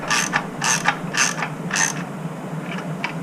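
Ratchet tightening bolts on a diesel Ford Ranger with an OM603 engine swap, several quick bursts of close, loud clicking, then lighter, fainter clicks trailing off.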